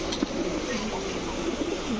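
Racing pigeons at a pigeon market give soft, low coos, a few faint calls over a steady background hum.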